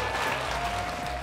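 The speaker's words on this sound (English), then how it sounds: "please give a warm round of applause to Red Squid" Audience applause for a finalist at a hackathon, dense and steady throughout, with a faint tone running beneath the clapping.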